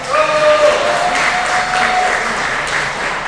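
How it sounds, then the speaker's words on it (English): Crowd applause for the winner of a grappling match at a Hammer Challenge Series event, a steady wash of clapping with a faint tonal hum underneath. "He's going to give him applause"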